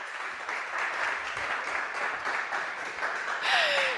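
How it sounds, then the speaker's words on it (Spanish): Sustained crowd applause, many hands clapping at an even level for several seconds, ending with a brief electronic tone sweep. "Un aplauso."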